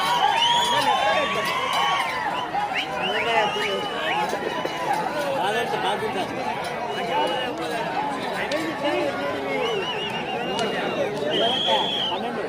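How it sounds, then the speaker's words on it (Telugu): A dense, lively crowd at a bullock race for four-tooth bull pairs in Rudravaram village, Nandyal district, shouts and whistles continuously while a voice talks over the noise. "చెప్పట్లు విజిల్లు కేకలు రావాలి"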